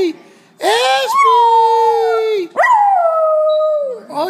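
A dog gives two long, loud, close howls with a rising then sustained wavering pitch and a short break between them, preceded by a faint whimper.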